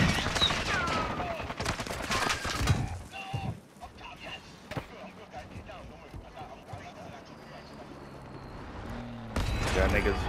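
Rapid gunfire from Call of Duty: Modern Warfare II bursts loud and dense at the start, then drops to a sparser, busier mix of shots and clatter before another heavy burst at the end, with voices talking over it.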